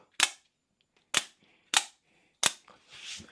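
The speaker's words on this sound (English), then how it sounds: "So the opening and close action is going to be really, really smooth." EMPEDC Pulse OTF knife blade snapping open and closed, four sharp, crisp mechanical clicks spaced about half a second apart, close and loud in a quiet room, followed by a faint soft rustle.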